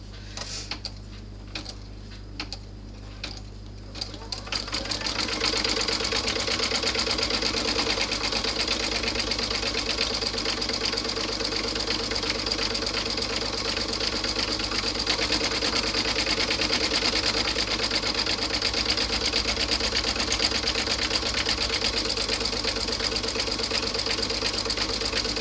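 A sewing machine stitches down appliqué on a passport and card wallet, starting with a few quieter taps before settling into a loud, steady mechanical whir that runs unbroken for about twenty seconds.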